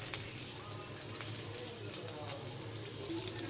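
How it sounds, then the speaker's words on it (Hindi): Potato and chicken cutlets fry in oil with a steady, soft hissing sizzle and scattered crackles, fairly faint throughout, with quiet vocal sounds in the background. "गाइस फाइनली यहाँ पे देखिए मैं फ्राई कर रही हूँ इनको"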